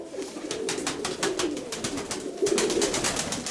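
Ornamental pigeons coo close by in soft, repeated throaty rolls over a faint background hum.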